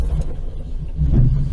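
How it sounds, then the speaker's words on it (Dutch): A truck is heard on a road in dashcam footage as a low, steady engine rumble and road noise that grows slightly louder toward the end. "Hier komt de vrachtwagen."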